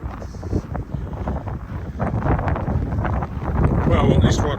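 Wind buffets the microphone on a snowy pre-dawn walk along a creek, a steady rough rumble that swells toward the end and stays close and loud throughout.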